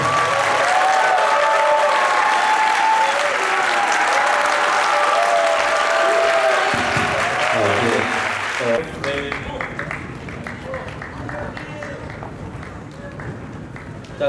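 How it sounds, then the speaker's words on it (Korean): A school lecture audience claps warmly for about nine seconds, then the applause fades and a speaker's voice continues over a few scattered claps. "사진 찍을 때 계속 박수 치시고요"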